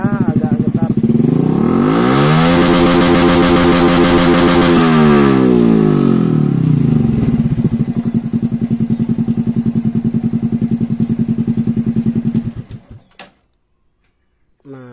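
Motorcycle engine on a standard Keihin ECU, freshly remapped with the limiter opened, roaring hard up to about 10,500 RPM then holding a loud steady high-rev drone before cutting off abruptly near the end.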